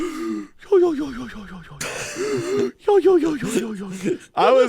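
A voice imitates heavy, labored breathing with a run of raspy, gasping inhales and exhales, some almost whinnying, in quick uneven bursts.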